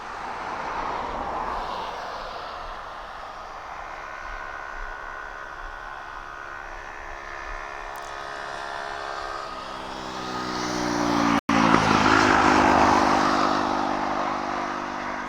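Aircraft landing at East Midlands Airport on a dry, warm night, a steady broad engine roar with droning tones that swells louder toward the end as it passes close.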